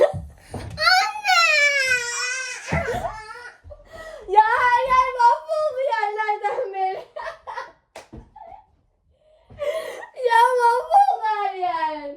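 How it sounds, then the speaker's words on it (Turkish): A young child cries close up in long, drawn-out wailing sobs and whimpers, broken by brief gasps and a short pause before the crying resumes. "Ağlıyor anneme"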